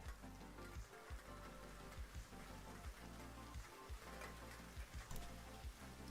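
Rain falls in the Minecraft video game as a soft, continuous hiss of patter with faint, irregular drips and low thumps, gentle and even throughout with no voices.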